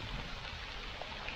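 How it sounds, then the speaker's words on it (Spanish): Steady rain falls outdoors during a river fishing trip with a cast net, a soft continuous patter of drops on water and surfaces, fairly faint and even throughout with no talking. "se nos ha venido la lluvia. Estamos bajo la lluvia."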